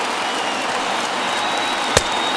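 A baseball stadium crowd of about 35,000 fans in MLB The Show 21, Twins versus Rangers, makes a steady, dense roar of cheering, broken once near the end by a single sharp thud.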